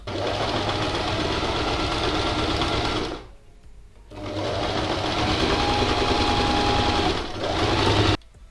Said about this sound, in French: Et donc je viens coudre évidemment à 1 cm de mon bord.